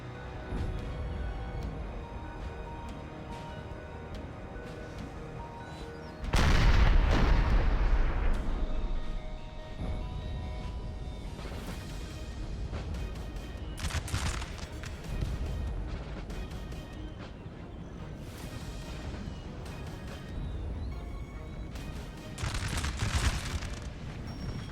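Cannon artillery roars in a Napoleon: Total War battle, with one heavy sustained blast followed by scattered booms and crashes over a battlefield rumble and a few short later bursts.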